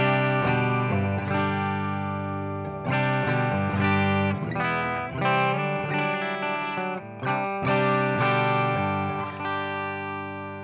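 Electric guitar on the bridge pickup, clean tone through an HX Stomp amp modeler with low and high cut, plays loud chords and arpeggiated notes steadily throughout, with no voices.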